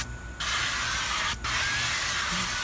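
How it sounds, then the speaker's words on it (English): A steady hissing spray from an aerosol can of canola oil nonstick spray onto a grill grate of a Weber Smokey Mountain smoker, released in two close bursts with a brief pause between them. "I do have some canola oil nonstick spray that I'm going to spray the grates with."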